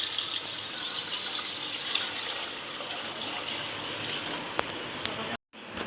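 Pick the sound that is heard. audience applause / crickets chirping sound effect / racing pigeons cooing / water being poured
water being poured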